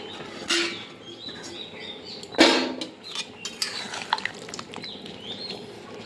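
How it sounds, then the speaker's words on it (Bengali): Chicken curry being stirred in a pot with gondhoraj lime leaves: scattered metal spoon scrapes and clinks against the pot, with two sharper knocks, over faint background sounds, no talk. "একটু ঝোলটা নেড়ে নিলাম ভালো করে"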